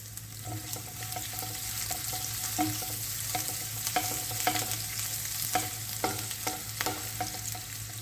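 Chopped ginger, green chilli, curry leaves and onion fry in a pan with a low, even sizzle, while a spoon taps and scrapes in a steady stirring rhythm, close and quiet, with no voices.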